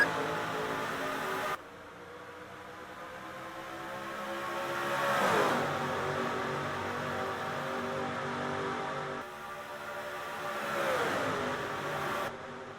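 Race cars accelerating at a green-flag restart in the NASCAR Racing 2003 video game, a pack of engines droning and rising in pitch together, swelling twice as they sweep past, with no talk.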